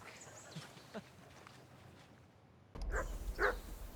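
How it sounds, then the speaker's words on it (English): A dog barks a few times in Kingdom Come: Deliverance 2, at a riverbank camp. The barks are moderately near over quiet outdoor ambience, and a louder stretch of sound follows near the end. "I assume you can hear that damn dog of yours barking."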